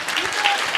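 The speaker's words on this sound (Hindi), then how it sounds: "जो भी ताली बजा रहे हैं" Audience applause at a gathering, dense continuous clapping from many hands, fairly close and steady throughout the short burst.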